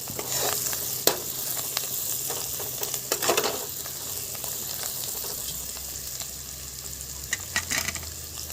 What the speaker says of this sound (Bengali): এবারে দিয়ে দেব কুচিয়ে রাখা ধনেপাতা। ভালো করে কষিয়ে নিচ্ছি।